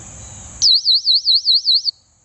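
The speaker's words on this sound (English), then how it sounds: "And that is the alarm." A loud, piercing electronic personal safety keychain alarm warbles in a steady rapid rise-and-fall pattern for just over a second, then cuts off abruptly.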